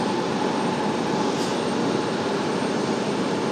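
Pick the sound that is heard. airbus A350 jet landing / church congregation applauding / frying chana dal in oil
airbus A350 jet landing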